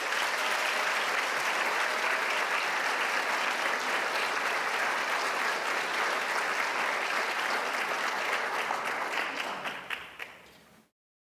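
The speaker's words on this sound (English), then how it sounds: "Let's give this group another round of applause." Sustained applause from an audience at a school board meeting, loud and dense for about ten seconds before tapering off and stopping abruptly, with no talking over it.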